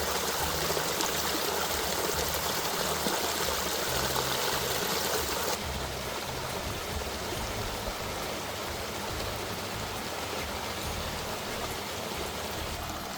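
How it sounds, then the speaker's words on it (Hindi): Water rushes continuously through a drainage channel, a steady hissing, trickling flow close to the listener that holds at a constant level throughout, with no one speaking. "तो ये जो नाले का पानी आ रहा है ना"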